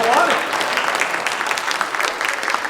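An audience at a jazz concert claps in a brief, dense burst of applause, fairly close and steady, with a voice heard speaking over the start.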